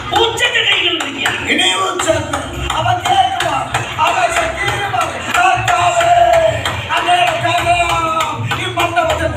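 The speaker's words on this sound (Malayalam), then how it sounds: "ഉറക്കെ കൈയടിക്കുക." Hands clap loudly in a steady, fast rhythm throughout, mixed with voices and crowd-like chatter at home.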